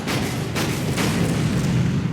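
Naval gunfire in a World War II naval strategy game booms out in a couple of dull, heavy thuds over a rumbling background, with no voices.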